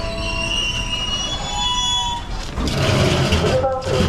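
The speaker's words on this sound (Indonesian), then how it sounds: "Kereta menuju Merak. Ini menuju Merak ini." A passenger train bound for Merak in Serang, Indonesia, rumbling steadily at close range, with high, sustained tonal squeals over the roar that give way to a louder, rougher rolling noise toward the end.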